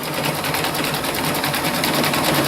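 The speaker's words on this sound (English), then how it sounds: "the machine is doing all the stippling around the design" An embroidery machine stippling quilt blocks makes a steady, fast mechanical whir with a continuous needle rattle, close and even throughout, with no talking.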